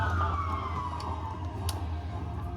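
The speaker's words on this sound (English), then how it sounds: "wait for the sirens to pass." A siren wails with a slowly falling pitch, fairly distant and steady beneath a low background hum.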